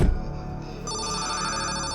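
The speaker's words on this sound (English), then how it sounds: "Then the station phone rang." The telephone at a radio station rings in a radio drama, a steady electronic ringtone that starts after a short low thud and keeps going at moderate volume.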